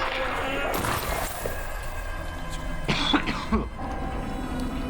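Coughing and throat clearing in a few rough bursts over a background of game noise, with a crash-like clatter near the end.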